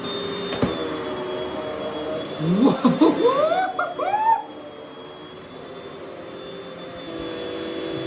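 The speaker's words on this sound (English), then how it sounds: "Spins okay on this carpet. It's flat to the carpet now, and it's doing all right. Let's get vacuuming then." A Russell Hobbs Athena Pet swivel upright vacuum cleaner runs on carpet with a steady motor hum and faint high whine, briefly joined midway by a burst of chirping, squeaky sounds before settling back to the even drone.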